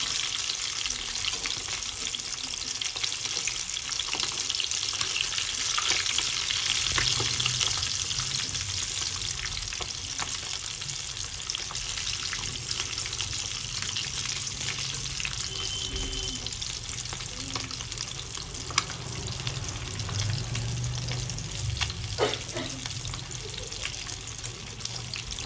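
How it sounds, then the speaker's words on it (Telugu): Fish deep frying in hot oil, a steady close sizzle and bubbling that runs throughout with occasional stirring clatter. "గోల్డెన్ కలర్ వచ్చేంతవరకు బాగా డీప్ ఫ్రై చేసుకోండి."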